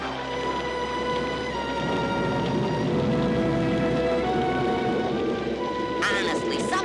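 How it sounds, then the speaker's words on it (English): A cartoon storm effect plays steady, dense rain with a low rumble of thunder underneath, brightening into a sharp crackle near the end, with voices briefly present. "It's only a little storm."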